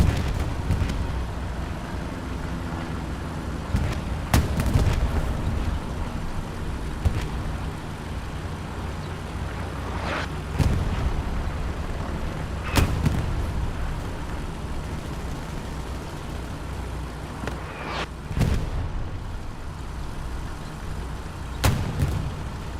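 In the World War II shooter Hell Let Loose, artillery shells strike at scattered intervals, each a sharp booming blast over a constant low battlefield rumble, with no one talking.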